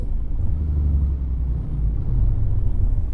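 Deep, steady diesel rumble from a Mercedes-Benz NG 1632 dump truck driving in Euro Truck Simulator 2, a loud low drone that holds constant throughout with no voices.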